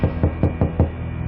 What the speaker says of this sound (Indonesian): Lagi, ketukan itu membuat aku terjingkat.